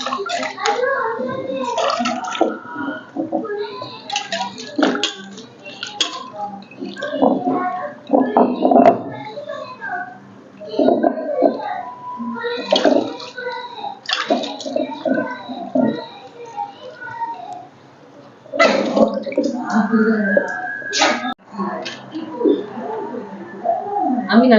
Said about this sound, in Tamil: அம்மியில் கொஞ்சம் அம்மி கழுவிக்கலாம்.